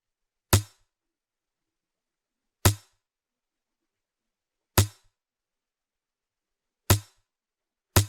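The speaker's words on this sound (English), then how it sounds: "Okay, so I brought in this percussion." Amapiano percussion hits programmed in FL Studio: five sharp, identical strikes with a low thump, spaced evenly about two seconds apart, each decaying quickly into silence.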